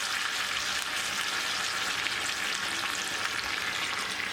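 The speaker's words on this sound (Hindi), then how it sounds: "इस तरह तेल में कड़ी पत्तों को 30 सेकंड के लिए फ्राई होने दें।" Steady, dense sizzling and crackling of curry leaves frying in hot oil for a tempering, continuous and close, with no talking.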